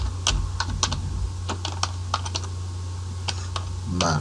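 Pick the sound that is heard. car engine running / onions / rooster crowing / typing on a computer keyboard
typing on a computer keyboard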